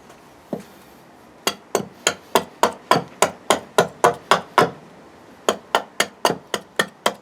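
An axe chops at a wooden kuksa cup in about twenty sharp, evenly spaced strikes, close and crisp, with one short pause partway through.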